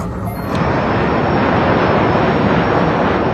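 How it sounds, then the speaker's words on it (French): An Airbus airliner in flight with XL Airways Germany, heard as a loud, steady broadband engine roar that swells in after a brief quieter start and then holds constant. "L'Airbus va maintenant faire demi-tour à l'est de Bordeaux et retourner à Perpignan."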